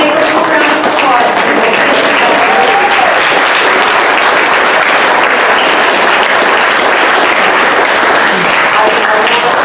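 Loud, sustained audience applause at a Coastal Commission public hearing on Cal Am's desalination permit, dense clapping filling the room steadily from start to finish with no one speaking over it.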